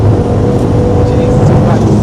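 A turbocharged car accelerating in low boost, heard from inside as a loud, steady low engine roar and road rumble with voices talking over it.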